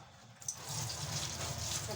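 Cold water pours in a steady gushing stream at close range, beginning after a short quiet stretch and continuing to the end.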